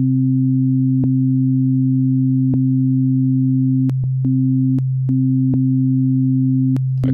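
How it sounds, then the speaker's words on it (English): Two steady low sine tones hum together continuously and loudly while one has its phase flipped, interrupted by a few tiny clicks and brief dropouts, with no talking. "we could flip the phase on one of them and see if we prefer the sound of it"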